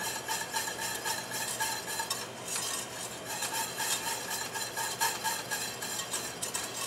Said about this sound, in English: you want to constantly whisk your bechamel